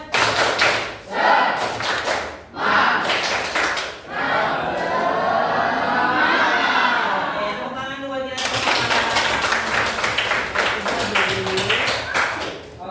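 A classroom group performs the rhythmic 'tepuk semangat' cheer clap, loud bursts of patterned clapping near and close in the opening seconds and again from about eight seconds on, with voices chanting and talking through the middle.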